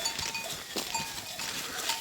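Sheep and goats in a flock on a mountain pasture, with bleats and cowbell-like clinks scattered through steady outdoor ambience at moderate distance.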